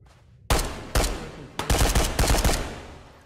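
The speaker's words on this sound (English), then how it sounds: "Who's shooting me?" Loud, close gunfire in the VR shooter Ghosts of Tabor: a sharp first shot, another a half-second later, then a rapid ragged burst of several rounds.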